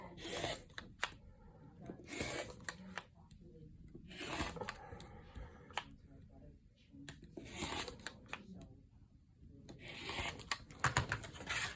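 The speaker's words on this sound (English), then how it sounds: "I'm going to cut here to straighten my edge, and then I'm going to cut 2 inches apart." A rotary cutter slices fabric along a Stripology ruler on a cutting mat in a series of short, crisp cutting strokes spaced a few seconds apart, with someone talking quietly between and over the cuts.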